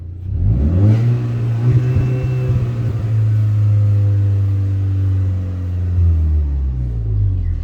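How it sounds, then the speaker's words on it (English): A hot hatch car engine with four exhaust outlets revs up hard and holds a loud, steady roar with deep exhaust rumble, close by, for several seconds without any talking. "Let's hear this, how this car sounds with the 4 exhausters."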